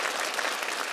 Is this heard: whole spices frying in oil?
no